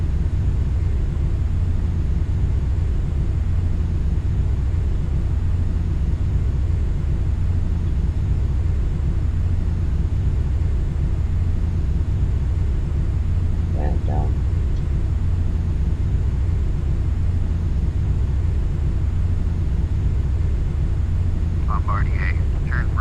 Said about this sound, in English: So now the plane is going to level off.